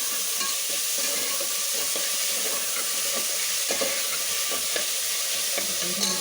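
Chopped tomatoes hiss and sizzle in hot oil in a pan while being stirred for tiffin sambar, a steady close frying crackle with occasional scrapes and no voices.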